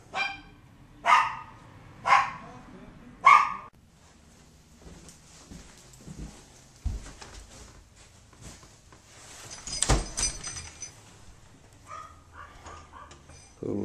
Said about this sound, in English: Poodles are barking.